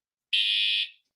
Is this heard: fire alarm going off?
yes